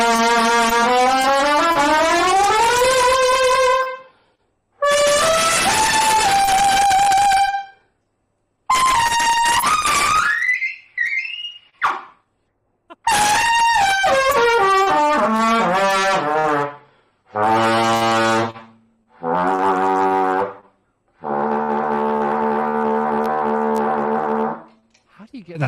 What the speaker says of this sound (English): And then when you blow the trumpet,